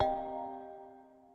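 A single phone chime rings out on a conference call, probably from a caller who forgot to mute: one bright tonal ding that decays slowly over about a second and a half, moderately faint, with no talk over it.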